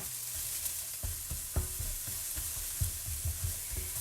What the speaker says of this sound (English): our green onions and garlic are going back into our warm